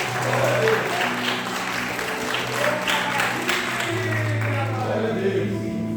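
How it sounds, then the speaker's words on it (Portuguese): A church congregation applauds steadily throughout, a dense continuous clapping that stays loud from start to end, with a sustained musical tone and some voices mixed underneath. "E as palmas são do nosso Senhor Jesus, que veio aqui nos mostrar isso"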